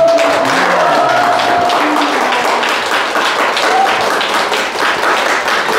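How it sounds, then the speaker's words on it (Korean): Audience applause at a live Q&A lecture in Daejeon fills the whole stretch: dense, loud and sustained, with faint voices and a few tonal sounds mixed into the noise. "선생님께 다시 한번 큰 박수 부탁드립니다."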